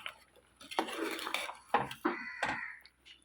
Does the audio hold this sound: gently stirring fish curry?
yes